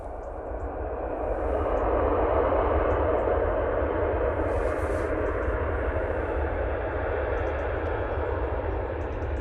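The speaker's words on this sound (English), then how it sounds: "Ryanair touching down. See those ribbons going off the flat edges of the 737-800." A Ryanair Boeing 737-800 touches down at Manchester Airport, a broad steady roar of engines and rushing air swelling after the first seconds and holding loud and close throughout, with no talk over it.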